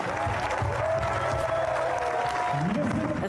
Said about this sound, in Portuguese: Uma salva de palmas para todos os jogadores.